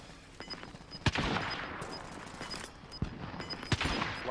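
Gunfire in the Warzone battle royale game, scattered sharp bursts and single shots at irregular intervals, some near and punchy, others more distant, over a constant background rumble.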